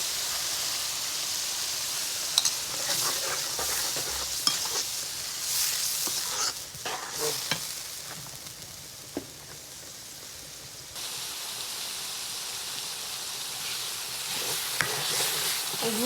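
Curd, eggs, salt and spices sautéed in a pan over a village-style stove, a steady broadband sizzle with scattered scraping stirs and clinks throughout, no talking.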